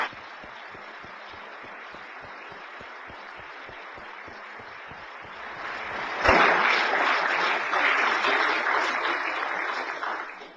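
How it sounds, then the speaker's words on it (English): An audience at a talk in Great Falls, Montana breaks into applause, starting faint and scattered, then swelling abruptly into loud, sustained clapping that holds steady before starting to taper at the end. "if you wish to applaud these people"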